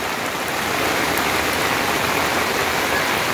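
Heavy rain pours down during flooding in Joaquim Gomes, Alagoas, a loud, steady, dense hiss of falling water and rushing floodwater, close and unbroken.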